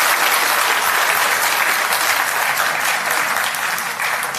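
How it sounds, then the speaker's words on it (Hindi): A large audience applauds loudly at a women's empowerment event in Delhi, dense continuous clapping filling the room for several seconds and easing slightly near the end. "एक बार जोरदार तालियां बजा दीजिए इसके लिए।"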